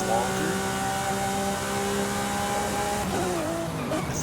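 A race-tuned car with a race transmission revving hard in Forza Horizon 5, a loud sustained engine whine holding steady before shifting pitch near the end, with game music underneath.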